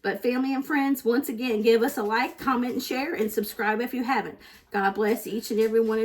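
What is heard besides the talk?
None of the usual background noises is heard.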